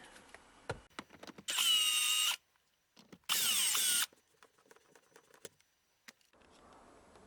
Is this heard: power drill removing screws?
yes